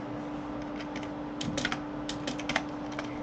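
A computer keyboard being typed on in short bursts of quick, light clicks, heard close up and fairly faint over a steady low hum.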